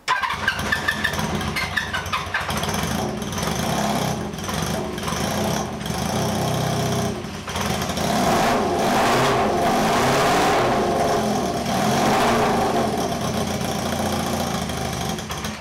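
A small engine on a 1978 cafe scrambler motorcycle runs unevenly, spluttering and revving in bursts, close and loud, with no talking.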